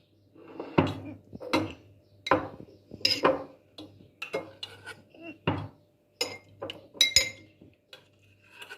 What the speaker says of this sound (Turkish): Şöyle kavanozumuzu alıyoruz.